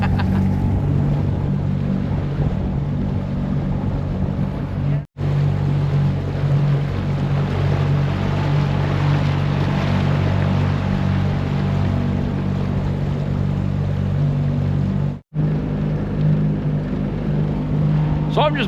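An outboard motor pushing a john boat along a river at about 3,000 RPM, a loud steady droning hum with wind and water wash, running continuously apart from two brief cutouts.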